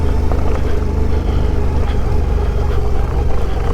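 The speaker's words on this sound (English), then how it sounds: "Use that engine braking." A motorcycle, around 460 pounds, engine braking down a dirt descent in the Magruder Corridor, its low steady engine rumble holding continuously throughout with no talk.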